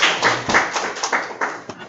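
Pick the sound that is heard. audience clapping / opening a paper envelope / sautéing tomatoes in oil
audience clapping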